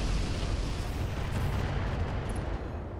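Missiles striking a battle mech in the RogueTech strategy game, a thick continuous roar of close explosions and rumbling blasts that holds steady before easing off slightly, without voices.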